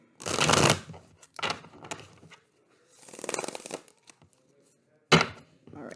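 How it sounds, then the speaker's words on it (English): Tarot cards riffled and shuffled in several brisk bursts separated by short pauses, close by, with no voices. "Do one more shuffle."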